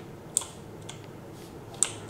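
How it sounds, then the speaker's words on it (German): Sparse keystrokes on a new mechanical keyboard, a few separate clicks spaced out over a couple of seconds, faint and close with no talking. "ich hoffe, man hört die Tastatur jetzt nicht zu laut"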